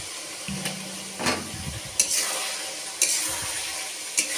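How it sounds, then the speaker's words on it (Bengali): Boiled taro stir-fried into a spiced fish curry gives a steady close sizzle, punctuated by a few sharp spoon or spatula knocks against the pan. "দিয়ে আমি ভালো করে এটাকে কষিয়ে নেবো আবারও।"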